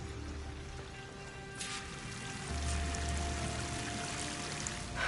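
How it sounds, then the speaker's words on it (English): A rushing waterfall in the video game Horizon Forbidden West gives a steady broadband wash of falling water that swells slightly louder midway, heard alone without talk. "That waterfall must be coming from somewhere."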